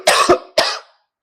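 Two close coughs from a teacher with a cold, loud and near, the first a quick double burst and the second a single harsh cough, then silence.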